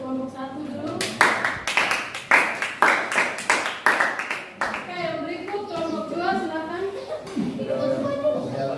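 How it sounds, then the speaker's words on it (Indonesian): A classroom group claps for the first presenting group, a burst of rhythmic clapping from several people lasting a few seconds, which then gives way to chatter and talking. "Beri aplaus untuk kelompok 1 dulu."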